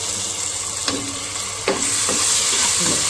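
Garlic-ginger paste hitting hot oil with browned onions, a steady close sizzle with a few sharp stirring scrapes and a brighter burst of frying midway, no voices.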